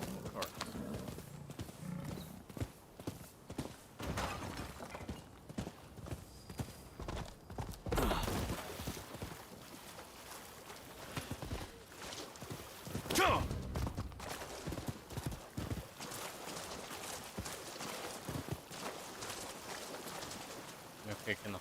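Hooves clip-clopping at a gallop from a horse ridden in the samurai action game Rise of the Ronin, a rapid drumming rhythm mixed with game effects and a brief neigh, with someone talking over it.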